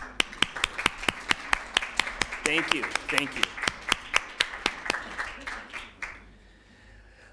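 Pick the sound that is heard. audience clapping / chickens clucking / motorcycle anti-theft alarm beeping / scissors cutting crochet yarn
audience clapping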